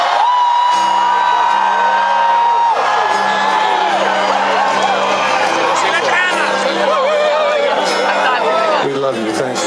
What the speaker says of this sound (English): Come on, you guys, you gotta scream.